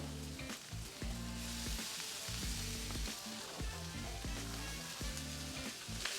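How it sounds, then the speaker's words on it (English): Corned beef with peppers and onions sears on a hot griddle for corned beef hash, giving a loud, steady sizzle with periodic scraping and stirring strokes throughout. "start searing up that corned beef with the veggies to get all those flavors working together"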